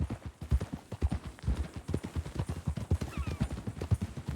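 A horse's hooves clip-clop in Red Dead Redemption 2, a steady rapid pattern of close, moderately loud footfalls continuing throughout without speech.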